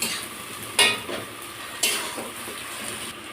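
Onion with ginger-garlic paste sizzles steadily in a hot pan, with a few sharp scraping stirs of a spoon cutting through the frying hiss at close range.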